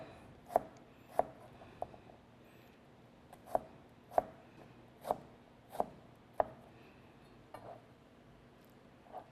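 A knife cuts deodeok root into pieces about 5 cm long on a board, with nine or so sharp, fairly quiet chops at an uneven pace over a low background hum.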